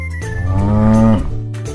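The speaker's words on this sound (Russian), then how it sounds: "Корова." A cartoon cow in a kids' wooden puzzle game for Android gives one loud, drawn-out moo that rises and then cuts off, clear and alone.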